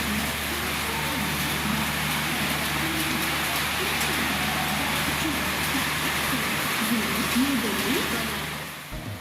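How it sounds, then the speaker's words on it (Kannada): Heavy rain pours onto a Karnataka Express train on the New Delhi to Bangalore run, a dense, steady hiss of falling water close by that continues throughout with a low background hum. "ಟ್ರೈನ್ ಮೇಲೆ ಮಳೆ ಎಷ್ಟು ಜೋರಾಗಿ ಬರ್ತಾ ಇದೆ ನೋಡಿ"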